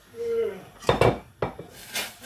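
A whisk working cheese into heating milk in a pot for lasagne sauce, with a few sharp metallic scrapes and clatters against the pot amid quiet kitchen background.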